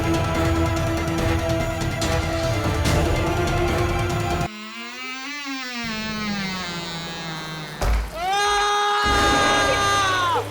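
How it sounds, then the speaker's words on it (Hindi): A drawn-out wavering scream from a Hindi horror drama cuts in partway through, loud and sliding in pitch, followed by a second rising cry over a dense, constant musical score. "ये चीख कैसी?"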